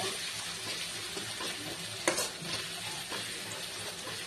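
Green chilli and garlic paste stirred for chutney, giving a steady moist scraping and low sizzle with one sharper clatter near the middle.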